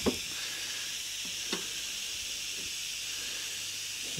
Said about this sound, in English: I'm going to get my air compressor with my air hose, blow that off